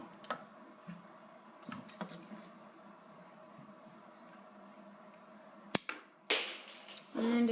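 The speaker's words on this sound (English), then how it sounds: "to launch these spring-loaded missiles, all I have to do is just push on this fin" A spring-loaded missile fires from a Lego Ninjago Ice Copter toy: one sharp snap near the end, after a few soft plastic clicks and taps in a quiet room.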